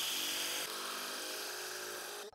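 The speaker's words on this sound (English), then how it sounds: "I'm gonna drill some countersink holes here so that when I put the screw in, it's gonna have a lot of purchase down there" A power drill whines steadily up close as it bores countersink holes into a wooden shed skid, with one brief change in pitch partway through and a stop at the end.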